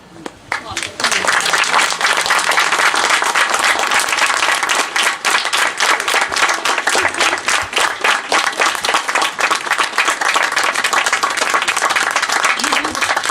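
Audience applause at a civic arts and tolerance event in Vence, dense steady clapping from a crowd sustained for over ten seconds, loud and close.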